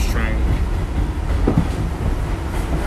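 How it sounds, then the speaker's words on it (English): An express subway train rumbles past in the Bronx, New York City, a steady rolling clatter of wheels heard close by during the evening rush. "Now the train right there, that's Express."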